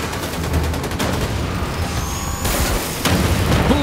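Gunfire and explosions in the shooter Wolfenstein II: The New Colossus, a dense, loud barrage of shots and booms running throughout with brief bursts and no talking.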